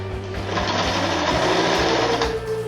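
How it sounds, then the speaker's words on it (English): A sewing machine stitches straps onto a handmade backpack, running continuously close up with a loud, rapid mechanical whir and steady needle clatter, no talking. "Now you want to sew your straps to the book bag."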